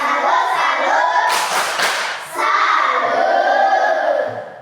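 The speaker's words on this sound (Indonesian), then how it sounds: "Tepuk salut untuk kelompok 2." A grade 5 class at SDK Langkas chants loudly in unison and claps together to salute a student group, with a short burst of sharp claps in the middle of the energetic children's voices.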